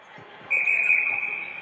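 A referee's whistle sounds at an ice hockey game, a single sustained shrill blast lasting about a second over faint arena background noise.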